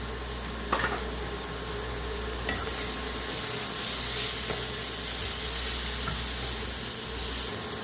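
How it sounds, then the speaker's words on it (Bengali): Chunks of bottle gourd sizzle in a hot pan while a spatula scrapes and stirs them, giving a steady close hiss broken by occasional clicks and knocks, with no voices. "এবার এই লাউগুলো দিয়ে একটু ভাজা ভাজা করব।"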